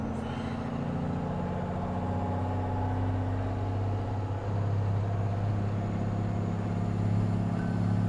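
Semi truck loaded with straw drives on a road into a construction zone, its diesel engine giving a steady, loud, low rumble throughout with constant road and wind noise, no voices.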